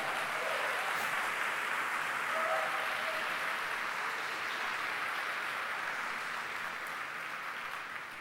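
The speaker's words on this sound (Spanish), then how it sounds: "Dele su mejor aplauso al Señor" A church congregation applauds in a dense, steady wash of clapping that holds for several seconds and fades slightly at the end.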